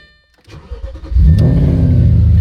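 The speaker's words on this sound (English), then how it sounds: "Let me restart the car." An Audi RS4 fitted with a Cartek GT kill switch cranks briefly, then its engine catches and settles into a loud, close, steady rumble.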